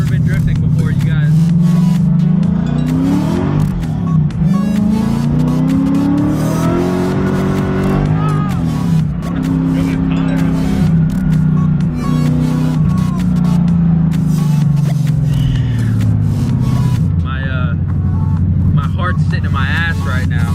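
A 1989 Nissan Silvia S13 with a V8 engine drifting roars loudly and continuously, its revs rising and falling through long sweeps while people talk over the engine noise.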